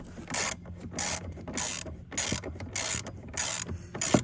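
A ratchet tightens bolts on the windshield wiper linkage of a 2015 Chevy Cruze, producing repeated close bursts of rapid clicking in an even back-and-forth rhythm.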